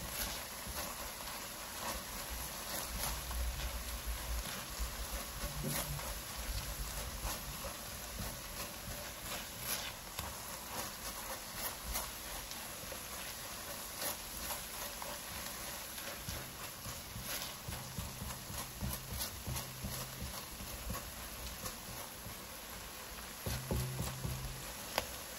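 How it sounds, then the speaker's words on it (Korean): Sweet kimchi seasoning being stirred and stir-fried in a pan, a steady close sizzle with scraping spatula strokes and soft clattering running throughout, no talking. "이 양념들은 단맛이 많이 들어있어서 타기 쉽기 때문에 계속 저어주세요."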